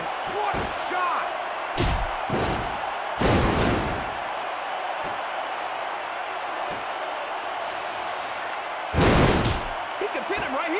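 Rey Mysterio's 619 landing in the wrestling game SmackDown vs Raw 2006, sharp slams and thuds over a steady arena crowd roar, with commentators talking throughout.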